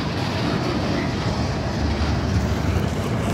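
A long CSX intermodal freight train rolls steadily past at close range in Jacksonville, Florida, a loud continuous rumble with wheel clatter and no voices.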